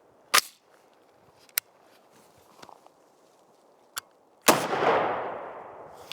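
A Ruger SFAR rifle fires one sharp, loud shot at the start and another heavy report near the end, followed by a long decaying echo, with a few faint clicks and knocks between.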